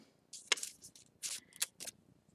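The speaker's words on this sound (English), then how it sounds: "I'm going to take the top and fold it forwards a little bit" A sheet of paper being folded forwards for a pop-up Valentine card, giving a few quick, close crisp rustles and crinkles in short bursts with quiet gaps between them.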